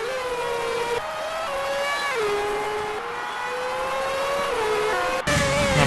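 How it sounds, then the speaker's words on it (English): IndyCar race cars in a sim racing video game scream past at high revs, a loud engine note stepping through gear changes and dips under braking, with no voices over it. "As they come through the hairpin, this is where Sanchez, Nishimoto, and Cornwell all seem to gain time"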